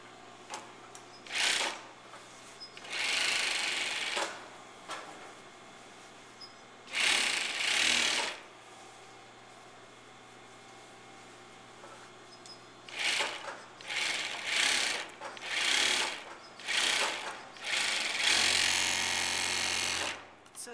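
A sewing machine stitches the back seam of a blouse in several separate runs, loud buzzing bursts of a few seconds each with pauses between, and a voice talking faintly underneath.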